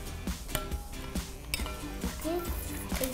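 A glue slime mixture is stirred slowly in a bowl, making repeated light clinks and scrapes of the utensil against the bowl at a steady pace, close and fairly quiet, with faint voices in the background.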